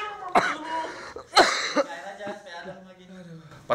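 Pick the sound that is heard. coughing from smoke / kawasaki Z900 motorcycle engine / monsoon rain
coughing from smoke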